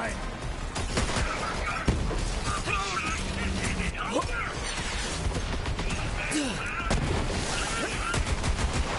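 Borderlands 3 gunfire crackles in scattered bursts through a busy, dense game mix, with a voice talking over it.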